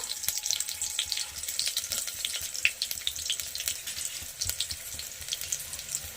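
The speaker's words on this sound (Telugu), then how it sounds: "ఆయిల్ హీట్ అయిన తర్వాత సన్నగా తరిగిన ఆనియన్స్ వేయాలి" Finely chopped onions frying in hot oil in a pot for dosakaya dalcha, a steady crackling sizzle with dense fine pops running throughout at moderate level, no voices.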